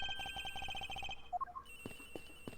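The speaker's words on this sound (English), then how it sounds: "Agent X's phone. It's ringing from somewhere, sir." In Ace Attorney Investigations, a mobile phone rings with a rapid, steady electronic trill, then cuts to a short rising chime sequence and quieter game sounds, fairly faint with no talking.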